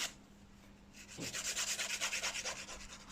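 A nail file shapes the side walls of natural fingernails. After a quiet pause, quick, rhythmic rasping strokes begin, close and soft.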